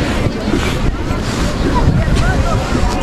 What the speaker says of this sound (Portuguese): Está um vento frio.